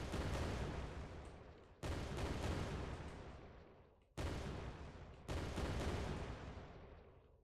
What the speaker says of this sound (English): I will add this, the default sound of the engine, so explosion